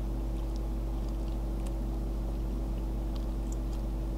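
Patrol boat engine idling in the video game Far Cry 3, a steady low droning hum that holds evenly throughout with faint scattered clicks above it and no talk.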